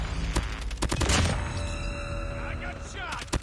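Gunfire in a COD Mobile multiplayer match, with rapid bursts of shots and thumping impacts filling a few seconds, loud and close, ahead of game voice callouts.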